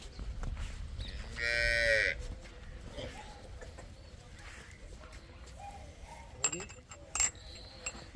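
A young heifer lets out one loud, drawn-out moo near the start, then faint clinks and scattered rustling sounds follow in a quiet outdoor farm setting.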